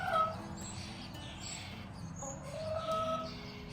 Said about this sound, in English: What's in here? Birds, chickens.